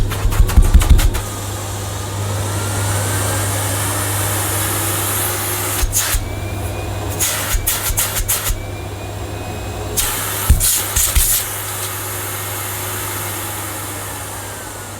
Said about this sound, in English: I think you'll agree that's a very smooth sounding motor